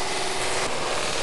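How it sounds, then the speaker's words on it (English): A buffing wheel spins against a Larrivee guitar neck in a steady, loud, dense whir that holds broadband without a break and carries no talk. "Note how the buffing wheel does not go over the tip."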